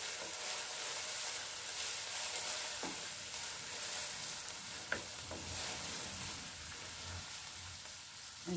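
Green pepper and mince sizzling and frying in a pot while being stirred, a steady close hiss with occasional scrapes and clinks of the spoon, no talking.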